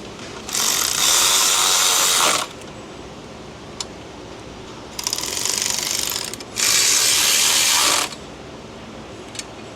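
Ratchet wrench cranking down coil bolts on a junkyard Chrysler/Dodge 3.6 engine: three long bursts of rapid clicking separated by pauses, loud and close, with no talk.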